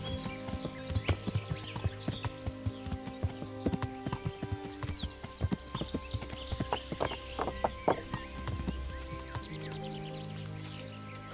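A ridden horse in Kingdom Come: Deliverance clip-clops along at a steady walking rhythm, hooves close and distinct over a faint hum of game ambience.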